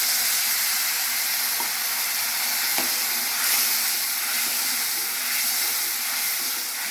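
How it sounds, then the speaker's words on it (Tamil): A steady, loud sizzling hiss of a tamarind mixture with water boiling hard in a pan, continuous throughout with faint occasional clinks. "இது கொதிக்கட்டும்"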